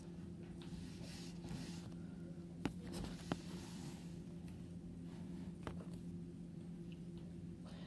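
A child writes with a pencil on paper, a soft continuous scratching broken by a few sharp taps, heard up close in a quiet room with no talking.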